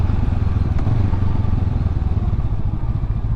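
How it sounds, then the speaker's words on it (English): A motorcycle ridden on the road, a loud, steady low engine rumble with wind buffeting up close, no voices over it. "Feels good to be out on my moto."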